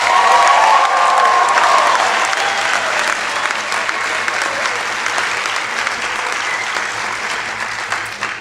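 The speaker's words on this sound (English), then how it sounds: "Let's give them a round of applause." A crowd at a cadet class commencement ceremony breaks into loud, sustained applause with some cheering, dense clapping that carries on strongly and tapers only slightly over several seconds.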